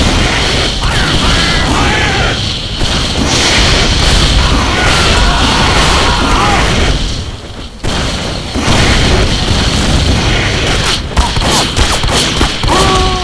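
Rocket explosions in Team Fortress 2, loud repeated booming blasts and crashes in a near-continuous barrage, with a brief lull partway through.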